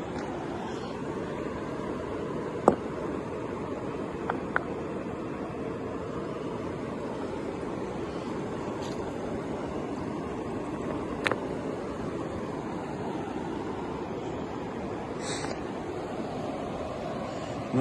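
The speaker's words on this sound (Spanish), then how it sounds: "Pero miren qué bonito este río." A cold mountain river flows in a steady, broad rush of water heard at moderate distance, with a few faint clicks and taps over the constant wash and no speech.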